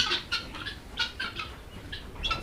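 Tithi breed egg-laying chickens clucking in short, irregular bursts close by on a poultry farm in Jamalpur, several birds calling over a faint background hum.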